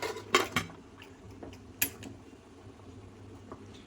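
A lid is set over a pot of chicken biryani, producing a couple of clear metallic clanks and clatters near the start and middle, followed by quieter taps over a faint fan-like hum.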